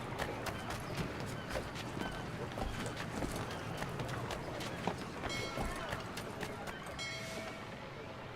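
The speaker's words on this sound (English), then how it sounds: "I'll arrange for horses while you do that." Horse hooves clip-clop at a running pace in the video game Assassin's Creed III Remastered, a steady beat of hoofbeats over dense city ambience, with some voices in the background.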